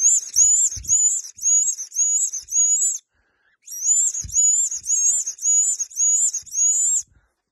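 Clausen Predatorcall 5 mouth-blown predator call imitating a rodent or mouse in distress: a series of shrill, high squealing bursts in quick rhythmic groups, with a short pause midway, close and loud.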